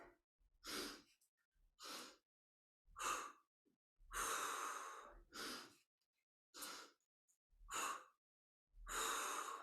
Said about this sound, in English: Inhale, nose. Exhale, mouth.